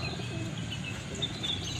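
Racing pigeons coo softly before a release event, with a low murmur of birds and faint chirps under a steady outdoor hum; quiet and distant.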